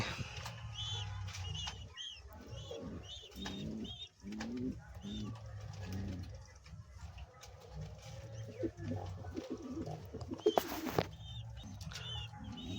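King pigeons on a pigeon farm coo in repeated low throaty phrases, several birds overlapping close by, with a brief burst of fluttering wings and scattered chirps in the loft.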